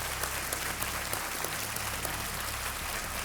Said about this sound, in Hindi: राजीव मखनी जी एक बार फिर तालियों के साथ इनका अभिनंदन